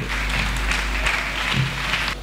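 A church congregation applauds steadily throughout, a dense wash of many hands clapping at close range with no pauses, ending abruptly.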